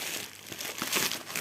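Adhesive tape peeling away from a cardboard parcel up close, a steady crinkly, crackling rip with a few sharper snaps, no voices.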